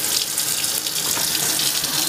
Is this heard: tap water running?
yes